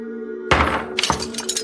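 A doll head falls and breaks in a house in Antipolo: a sudden loud crash with shattering, then a second smaller impact and scattered clatter, over a steady low hum.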